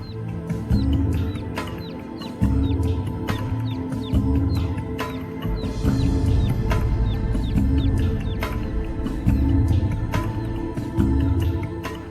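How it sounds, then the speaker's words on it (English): Small chick and fowl peeping and clucking in a steady stream of short, repeated calls over a low, busy background, heard alongside a magic trick where a tiny chick is produced from a toy ark. "Now another little chick."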